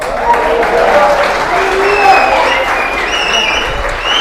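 An audience at a church gathering applauds in a sustained burst of dense clapping, loud and steady throughout, with some speech mixed in.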